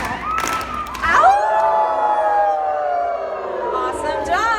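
Children at an indoor water park resort join in a group wolf howl, their voices imitating wolves in one long rising-and-falling howl with crowd cheering, loud and close.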